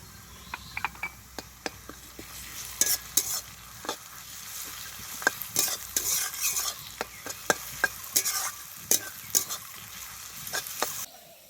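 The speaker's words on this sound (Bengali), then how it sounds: "পেঁয়াজ আর রসুনটাকে খুব ভালোভাবে কষিয়ে নিয়েছি।" Onion and garlic paste frying in a pan for a Bengali katla fish kalia, stirred with brisk scraping and rattling spatula strokes over a soft sizzle, close and continuous.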